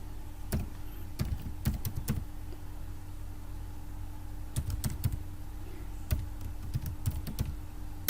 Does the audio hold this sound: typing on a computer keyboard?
yes